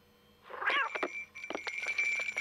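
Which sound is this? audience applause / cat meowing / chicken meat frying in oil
cat meowing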